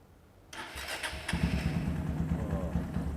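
A cafe racer motorcycle engine cranks, then catches and settles into a loud, throbbing idle nearby.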